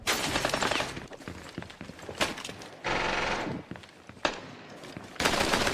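Rapid automatic gunfire in a Counter-Strike style video game: dense, loud bursts of repeated shots in several stretches, with short pauses and sharp single cracks between them.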